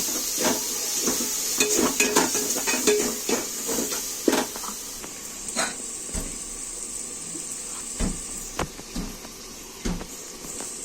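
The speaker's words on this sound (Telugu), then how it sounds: "2 స్పూన్స్ కారం వేసి బాగా వేయించుకోవాలి" Chilli powder and salt frying on a low flame for a Nellore small-fish tamarind curry, a soft hiss under frequent clinks and scrapes of a spoon against the pot, with no one speaking.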